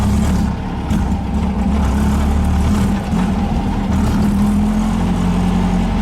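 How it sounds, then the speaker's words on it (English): A 1915cc VW Manx buggy engine lugging in second gear drones loud and close, with a low, steady rumbling hum that stays even throughout. "And I'm just lugging it in second gear right now."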